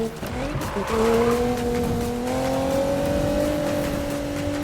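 A Nissan GT-R accelerates in Need for Speed (2016), its engine pitch climbing steadily under a loud, sustained roar with tire squeal, close and continuous, while someone talks over it.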